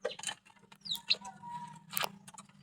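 Chickens cluck in short, faint, scattered bursts close by, with a steady low hum underneath and brief sharp clicks and chirps between the clucks.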